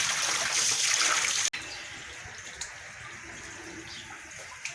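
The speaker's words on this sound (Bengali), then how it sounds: "পাইপ দিয়ে পানি দিয়ে দেওয়া হইতেছে সবজিরে" Water running from a pipe onto vegetables on a cattle farm, a steady broadband rush that is loud at first, breaks off for a moment, then carries on softer and continuous.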